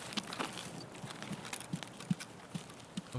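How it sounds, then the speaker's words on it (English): Footsteps crunch over gravel in the video game Escape from Tarkov's Woods map, a steady series of soft rhythmic steps about every half second, faint and somewhat distant against a hissy outdoor ambience, with no talk. "I swear to God, I heard gravel underfoot."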